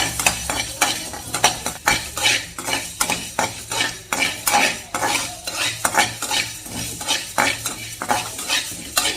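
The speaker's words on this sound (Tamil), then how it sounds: "எதுவுமே எண்ணெய் ஊற்றாம அப்படியே ஃப்ளைங் பேனில் நீங்கள் இப்படி ரோஸ்ட் பண்ணி எடுத்துக்கோங்க" Coriander is dry-roasted in a frying pan without oil, a spatula scraping and tossing the seeds in a steady, rhythmic series of rattling strokes, close and fairly loud throughout.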